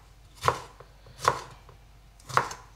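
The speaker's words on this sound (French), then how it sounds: "ce que je fais, c'est que je coupe des lanières" A knife cuts a bell pepper into strips for a fresh summer salad, with three crisp, close chops spaced evenly apart against a quiet background.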